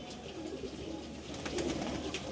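Several pigeons on a rooftop coo in low, rolling murmurs, overlapping continuously at close range with a light outdoor background.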